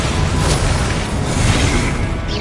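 A fire spell burst cast in the Hogwarts Legacy video game, a loud, steady roaring whoosh of flame filling the moment with dense rumbling noise and no pauses.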